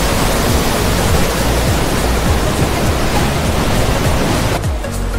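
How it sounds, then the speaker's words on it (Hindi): A fast-flowing waterfall near Uri and Ganderbal roars in a steady, dense wash, loud and close, with no voices; the rush drops slightly in the last half second. "तो हम इस वाटरफॉल से अब निकल रहे हैं"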